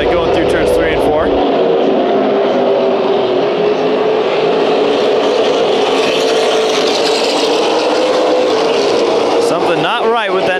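Late model race cars roar around a bullring track during the Fall Classic, a continuous loud engine drone with broad noise throughout and a car sweeping past near the end, while a commentator talks over it.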